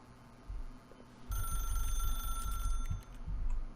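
A telephone rings in The Stanley Parable, a bright electronic bell tone that starts abruptly and trills steadily for a couple of seconds over a low ambient hum.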